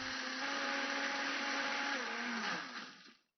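A blender purees soaked cashews into vegan cream cheese, running as a loud, steady motor whir for about two and a half seconds before winding down and stopping.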